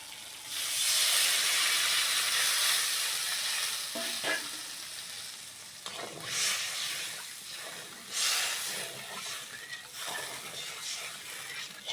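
Water poured into a hot pan of fried bay leaf in a village kitchen, bursting into a loud, broad sizzle and hiss of steam that carries on with surging, crackling swells and no talking.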